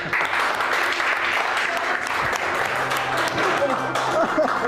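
Audience applause fills the room at steady loudness throughout, with a few voices and whoops mixed in over the clapping.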